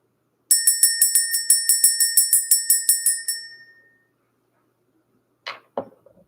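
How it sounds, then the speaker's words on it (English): A small bell rung to clear energy gives a rapid run of about sixteen bright, close strikes, then fades into a ringing decay, followed by two faint knocks. "We're going to go ahead and ring this bell."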